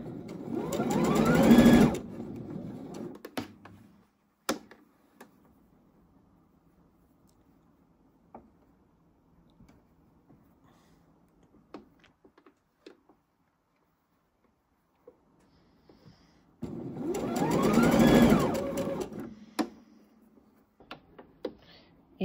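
Sewing machine stitching a shoulder and neckline seam on a tank top, running in two loud sustained bursts at the start and near the end, with a quiet stretch of faint handling clicks between them.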